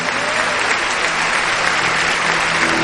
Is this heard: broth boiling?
no